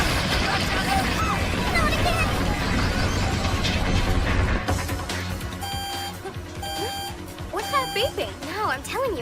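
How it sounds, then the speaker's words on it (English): Electronic beeping tones sound in a dubbed anime episode, sharp repeated pulses over a busy, noisy background and dialogue. "Beeping."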